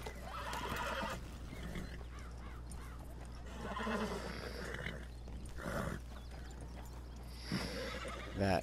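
A horse in Red Dead Redemption 2 neighs and whinnies several times, loud and close, with hoof clops and snorts over a low steady hum.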